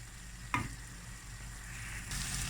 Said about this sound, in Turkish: Arada karıştırarak kavuralım.